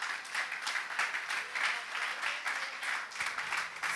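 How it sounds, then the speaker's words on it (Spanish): Church congregation applauding together in a steady, dense patter of clapping that holds at moderate volume throughout, with no voices standing out above it. "Denle un aplauso al Señor"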